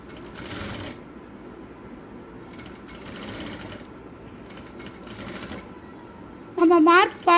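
A sewing machine stitches the folded neckline of a blouse in short, rapid, close-up bursts with quiet pauses between them, and a voice briefly rises near the end.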